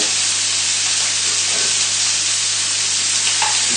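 Chilli lamb fries in a hot pan, a loud, constant sizzle and hiss that holds steady with no talk over it.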